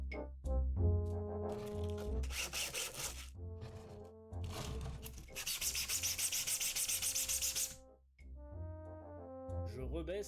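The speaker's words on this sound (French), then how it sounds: "Parce que l'arrière, c'est dur à poncer." Sanding the back of an artwork, with two long bursts of loud, broadband abrasive rubbing set between stretches of tonal music or humming and a few brief voices.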